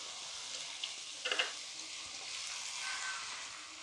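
Chicken pieces frying in a pan for chicken manchurian, a steady bright sizzle with a few small crackles and pops, close and continuous with no talk.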